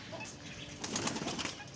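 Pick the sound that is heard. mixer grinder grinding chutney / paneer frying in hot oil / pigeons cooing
pigeons cooing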